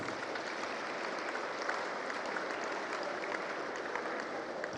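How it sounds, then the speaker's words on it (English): An audience applauds exhibitors at a national science and maths exhibition event. Steady, dense clapping from a crowd carries on evenly for several seconds at a moderate distance, with no voices over it. "Can we applaud for ourselves, exhibitors?"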